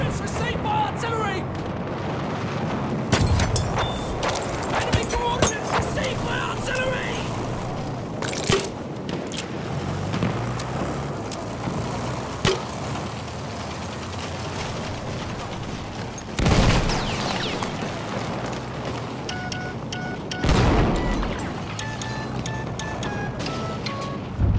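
In Battlefield 1, an artillery barrage hits the Amiens frontline map, with heavy booms and rumbling blasts landing at intervals through constant battle noise while voices shout over it.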